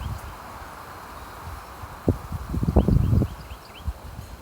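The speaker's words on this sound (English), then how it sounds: "Every now and then we get a big gust." Wind gusting through pine trees on a windy morning, a steady broad rush that swells into a louder, rustling gust near the middle and then eases back, with faint birdsong in the background.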